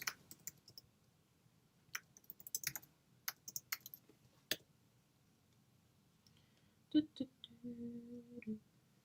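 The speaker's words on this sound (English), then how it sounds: "Ooh, what am I typing again?" Scattered bursts of quick clicking keystrokes on a computer keyboard sound close and fairly quiet, with pauses between runs and a brief hum near the end.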